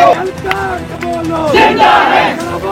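Crowd of protesting lawyers in Islamabad chanting slogans in unison, loud rhythmic shouted calls rising and falling over a couple of seconds, with voices layered densely together.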